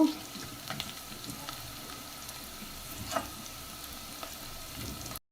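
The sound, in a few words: onion and garlic frying in oil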